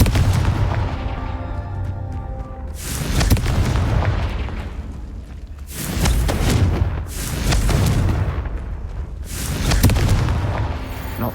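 Hogwarts Legacy Confringo blasting curse explosions boom in three or four heavy, loud bursts with rumbling tails, spaced a few seconds apart, with no talking.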